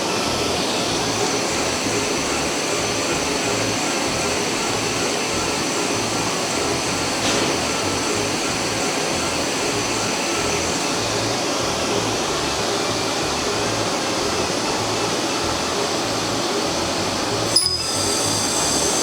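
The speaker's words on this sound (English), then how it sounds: "I'm going to enter a speed and a power to cut this 1-inch thick acrylic." An OptiFlex 52x100 laser cutter slices through 1-inch thick acrylic with a steady, loud, broadband rushing hum of air and exhaust that holds unchanged throughout, with a single sharp click near the end and no talking.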